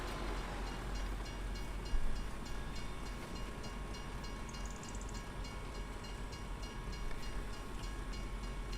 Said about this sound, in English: Oh, train's coming.